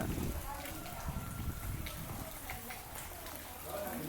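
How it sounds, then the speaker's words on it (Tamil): Heavy rain pours steadily over a house under construction, a dense constant hiss of drops on surfaces filling the whole scene at close range. "நல்லா மழை பெஞ்சிட்ருக்குங்க."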